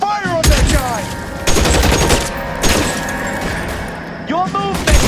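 Gunfire in the video game L.A. Noire, several loud sharp shots and short bursts spread across a tense shootout, mixed with game voices shouting.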